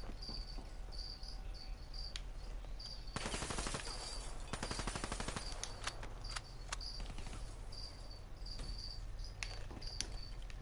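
A Kuda submachine gun in Black Ops 3 fires in distant rapid bursts, one longer stream in the middle, over a constant chirping insect-like background hum.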